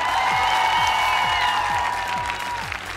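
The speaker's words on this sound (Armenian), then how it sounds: "Շարունակում ենք ծափահարությունները" An audience at a gala show breaks into dense, continuous applause that fills the whole stretch. Sustained musical tones ring out over the clapping, which fades slightly toward the end.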